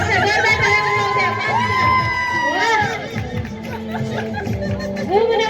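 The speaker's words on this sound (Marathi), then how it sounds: "जोरदार टाळ्या वाजवू द्या." A lively crowd with children cheers, whoops and shouts at a group event, loud and close, with voices calling over one another throughout.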